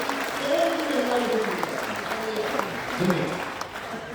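Audience at a Hindi comic poetry gathering (kavi sammelan) in Jamshedpur breaks into steady applause, with voices and murmuring mixed in under the clapping throughout.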